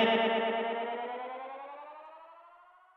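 A vocal loop runs through the tape echo effect of a Boss RC-505 loop station. Its pitched repeats stack into a smeared, swelling tail that slowly fades across three seconds with no speech.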